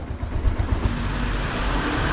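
A Bajaj Avenger 160 motorcycle idles just after a cold start on a rainy hill road, giving a steady, close, low engine rumble with a slightly uneven throb early on.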